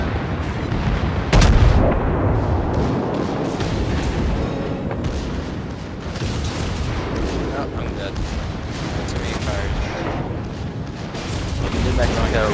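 Heavy naval gunfire from battleships such as the New Mexico and destroyer Mutsuki in a ranked warship game, with booming salvos and rumbling blasts over a constant din while someone talks throughout.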